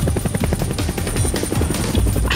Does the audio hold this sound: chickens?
no